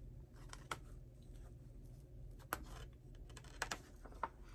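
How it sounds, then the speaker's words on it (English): Scissors snipping the string on a packaged sheet set, a few quiet, sharp clicks spaced out against faint room noise. "Let me snip the string."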